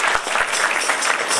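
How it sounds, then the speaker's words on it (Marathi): A crowd at a kirtan claps loudly and steadily, a dense, continuous wash of hand claps that fills the whole moment without any talk. "सगळ्यांनी एकदा जोरदार टाळ्या वाजवा बरं"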